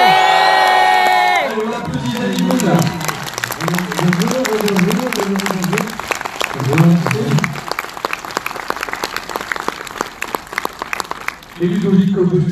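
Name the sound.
cinema audience cheering and applauding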